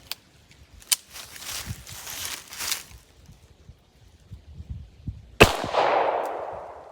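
A 9mm snubnose revolver fires a Winchester 115 grain standard-pressure jacketed hollow point: one loud, sharp shot with a ringing decay near the end, after a quiet stretch of light rustles and a small tick.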